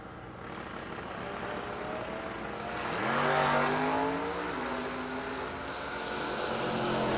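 A Chevrolet Cobalt drag racing car at a drag strip, its engine rising in a roar mid-run then sustaining a steady drone, heard from a distance amid ambient track noise.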